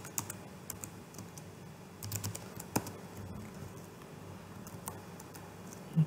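Typing on a computer keyboard while entering a network switch configuration, producing sparse, quiet key taps with irregular pauses and a few sharper clicks, heard alone at close range.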